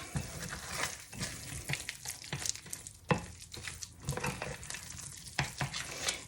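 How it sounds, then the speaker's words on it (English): Hot microwave peanut brittle mixture being stirred in a bowl, giving a series of quick scraping, sticky clicks and light knocks against the sides, close and fairly soft. "give that a stir the best you can"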